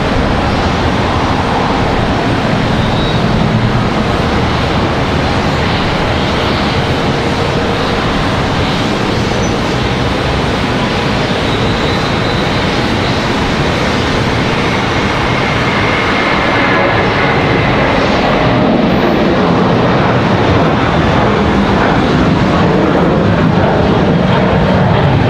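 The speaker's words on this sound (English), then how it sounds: "We got an A321 departure." Airbus A321 jet departing Charlotte Douglas International: a powerful, continuous engine roar that stays loud and fairly close the whole time, with no one talking.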